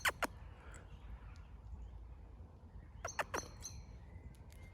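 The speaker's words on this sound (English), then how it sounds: "I spotted a magpie over here." A magpie gives a few short, sharp chattering calls, some near the start and a cluster near the end, over a quiet outdoor background hum.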